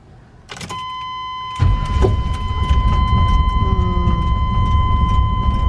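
A van engine is started in cold weather. A brief cranking sound leads into the engine catching and settling into a loud, steady low rumble. A constant high electronic chime tone runs throughout, and no one speaks.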